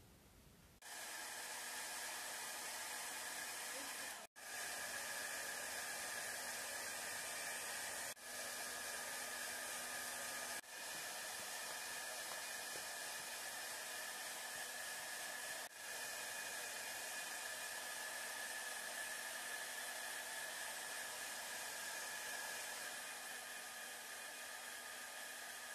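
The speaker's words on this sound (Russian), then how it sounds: "А что будет, если я использую фен?" A hair dryer blows a jet of air to keep balls floating in a levitation experiment. Its loud, steady whooshing whir runs almost the whole time, with a few brief dips where the airflow cuts out for a moment.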